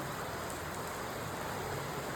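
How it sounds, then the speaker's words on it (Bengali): Light rain falling steadily, a dense even patter close by with no pauses and no voices. "বৃষ্টির দেখা পেলাম দীর্ঘ প্রতীক্ষার পরে"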